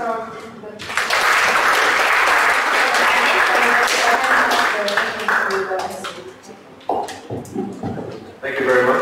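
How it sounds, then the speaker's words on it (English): Audience applause for panelists at a Germany–Indonesia strategic dialogue panel, a sustained burst of clapping across most of the clip that fades out as a speaker begins talking near the end. "Can we get a round of applause from the"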